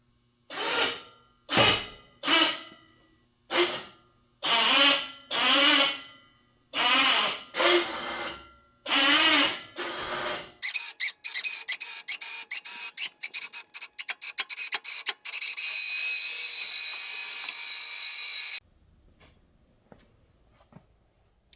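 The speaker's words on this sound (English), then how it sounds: "Pulling the front winch in, which is pulling that cleat right there, which is standing the tire up." An electric winch pulls a cleat to stand a tire upright on an over-cab tire and A/C rack. Several short whining bursts give way to a long, loud, rattling continuous pull that cuts off abruptly.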